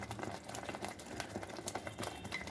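A rohu fish curry simmers in a pan, giving off soft, quiet bubbling with irregular tiny pops and crackles at close range and no voices.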